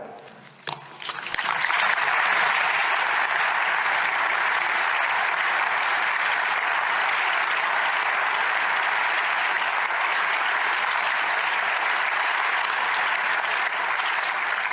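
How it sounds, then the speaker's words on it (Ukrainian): Sustained applause in the European Parliament chamber, beginning with a few scattered claps and then swelling into a long, steady wall of clapping from a large audience. "І ці оплески, точно не мені ці оплески."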